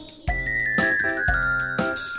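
A clock chimes in a Malayalam cartoon nursery rhyme with four bright, evenly spaced bell strikes about half a second apart, each ringing on into the next, with no voices over them.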